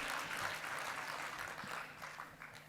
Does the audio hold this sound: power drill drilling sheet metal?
no